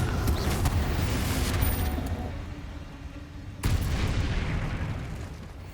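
Confringo blast spell in the Hogwarts Legacy video game, loud fiery explosive bursts in two waves over a dense rumbling battle din, the second burst striking sharply partway through.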